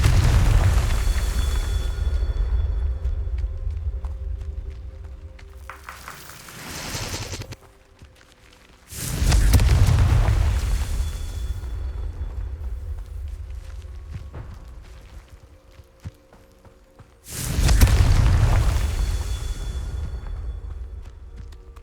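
Fiery explosions of the Confringo spell in Hogwarts Legacy bloom loudly three times, each a deep roaring burst that slowly decays into rumbling, spaced several seconds apart, with no voices.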